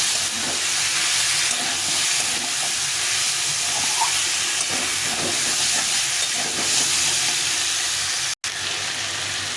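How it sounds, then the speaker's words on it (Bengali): Cauliflower, potato, peas, paneer and soaked chickpeas sautéing with spices in a pan give a steady, loud hiss and sizzle throughout, with faint stirring scrapes and one brief dropout near the end. "মশলাটা দিয়ে একটু কষিয়ে নিতে হবে একসঙ্গে করে সুন্দরভাবে কষিয়ে নিতে হবে"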